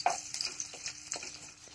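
Chopped onion fries in a pan with a soft sizzling hiss, while a spoon stirs it in several short, scraping pulses close by.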